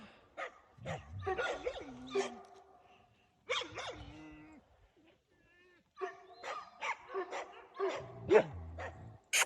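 A Kangal dog barks and yips in short bursts in a dark forest, some close and sharp, with brief pauses and a bit of whimpering between.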